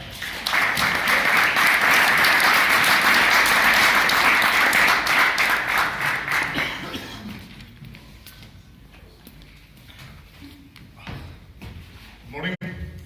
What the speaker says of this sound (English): Okay, applaud for CCP Cognac.